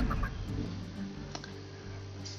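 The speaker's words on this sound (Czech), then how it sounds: "Slepice." A chicken clucks in the Hearthstone card game, a brief burst of clucking at the start over a steady, dense layer of game music and ambience.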